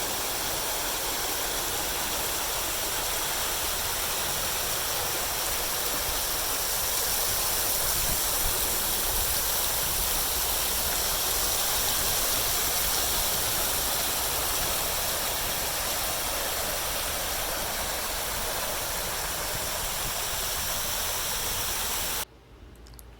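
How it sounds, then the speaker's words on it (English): A garden water fountain splashes in a steady, full rush of falling water, loud and constant with no voices, until it cuts off abruptly near the end. "My favorite spot at the gardens was a water fountain."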